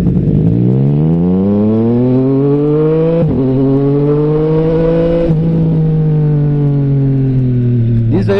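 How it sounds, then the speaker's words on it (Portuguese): A car engine running on a straight-pipe exhaust revs loud and close, its deep droning pitch climbing steadily with two abrupt drops like gear shifts, then rising again, continuous for the whole stretch. "Diz aí o que vocês acharam do ronco e se eu deixo assim ou se eu troco o escape."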